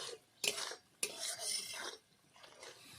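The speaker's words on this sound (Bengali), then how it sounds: "বেশ কিছুক্ষণ এভাবে নেড়ে নেড়ে মশলা কষিয়ে নেব" Masala for aloo dum is stirred and roasted in a pan, with a few quiet scraping strokes of a spoon against metal in uneven bursts over a faint, low sizzle.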